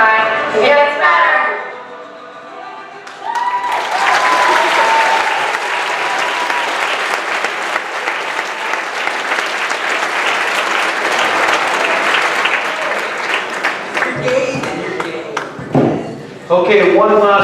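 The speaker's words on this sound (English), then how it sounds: "one last big round of applause for all awesome GSA members" A school auditorium crowd gives a loud, sustained round of applause for the GSA members, with a voice heard just before the clapping swells and again as it fades.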